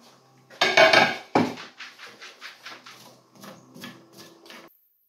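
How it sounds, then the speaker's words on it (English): Onions chucked into a hot pan on a hob at setting five give a loud close clatter, then a run of lighter metallic clunks and scrapes that fade out. "I'm going to chuck the onions in, get them going."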